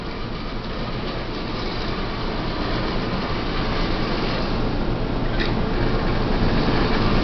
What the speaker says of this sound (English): This old locomotive is up and running with absolutely no problem at all.